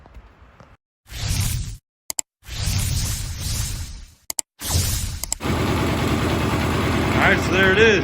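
A carbureted motorcycle, recently near-hydrolocked, cranks in a few loud bursts with short pauses, then catches and settles into a steady, close idle.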